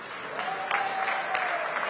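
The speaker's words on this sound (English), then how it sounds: "It's a deserved round of applause." A round of applause rises from the audience at the 44th SADC heads-of-state summit, an even wash of many hands clapping steadily with no speech over it.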